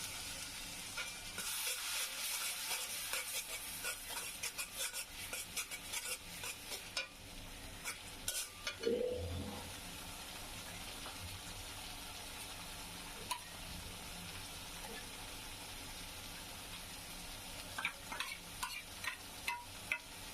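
A tablespoon of onion paste frying in mustard oil for a village-style chicken bhuna, a quiet sizzle broken by frequent clicks and scrapes of stirring, with one louder knock midway.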